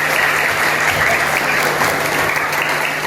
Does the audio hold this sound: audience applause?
yes